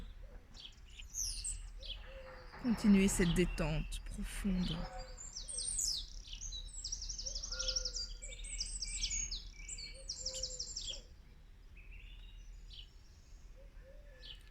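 Birds chirp and trill repeatedly in the background outdoors, with a calm voice speaking softly over them for a stretch.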